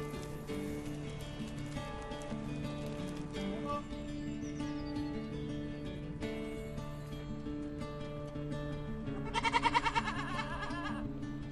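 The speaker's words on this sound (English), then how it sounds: "We have about 150 goats at the sanctuary at the present time" Goats at a goat sanctuary in Maidstone, bleating over a steady rumble of outdoor background noise, with a louder, wavering bleat rising near the end.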